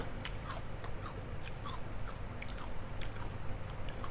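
Close, moist crunching of a crisp, spicy Korean snack, with quick bite clicks and chewing repeating steadily over a low background hum.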